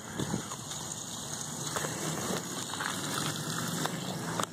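A boat's bilge pump, switched on by its float, runs steadily and pushes water out in a continuous rushing, splashing wash that stays even and close for the whole stretch.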